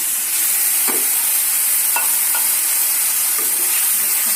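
Spice paste sizzles steadily as it fries with moringa leaves in a pan, a loud continuous hiss broken by a few soft stirring knocks, with no talking.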